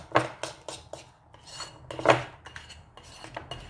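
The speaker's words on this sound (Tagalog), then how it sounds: "I-mix yung itlog dito sa harina" An egg is mixed into flour for fried okra batter, a utensil clinking and scraping against a bowl in a steady series of close, light knocks with no talking.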